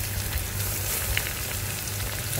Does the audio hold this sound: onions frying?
yes